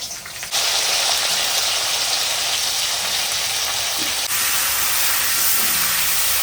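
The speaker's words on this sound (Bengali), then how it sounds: "আমি এবার ফুলকপিটা ভেজে নেব" Loud, steady sizzling hiss of cauliflower frying in hot oil, starting abruptly and continuing without pause.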